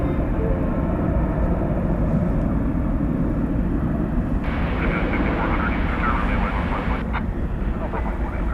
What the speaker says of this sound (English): So yeah, we'll see this taking off over here.